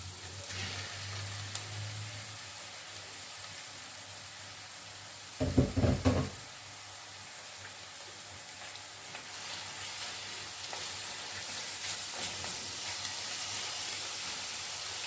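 Fresh garlic, ginger and meat frying in a pot for a sugar bean bredie, giving a constant soft sizzle near the mic, with one short burst of louder clatter and stirring midway.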